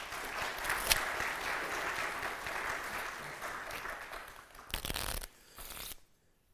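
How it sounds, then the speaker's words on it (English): An audience at a talk on security and deception gives a volunteer a round of applause, a dense sustained clapping that swells briefly, then cuts off abruptly into near quiet. "Kimber, give him a round of applause."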